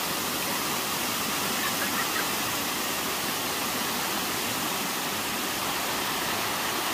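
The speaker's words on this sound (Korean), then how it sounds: "아주 시원한 물소리가 들립니다." Clear water rushes steadily along the Okryong valley stream in Gwangyang in summer, a continuous, even, hissing flow with no pauses and no voices.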